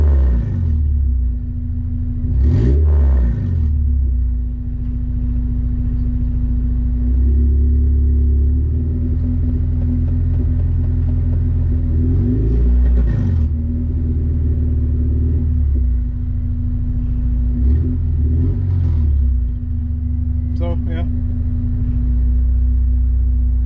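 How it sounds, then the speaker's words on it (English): A car engine idles with a low rumble and is revved to about 2000 RPM several times, each rise and fall in pitch clearly audible, close up inside a stripped cabin. "So I'm revving it up to 2000 RPM where the last one was."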